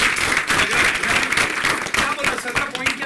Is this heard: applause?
yes